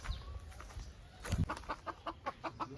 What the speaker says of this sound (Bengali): মুরগি আছে না হাঁস আছে ধর